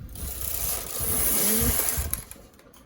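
Knitting machine carriage pushed across a row, a short close sliding rattle and whir lasting a couple of seconds before fading out.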